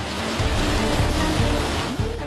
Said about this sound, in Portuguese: nesta imagem a onda invade a rua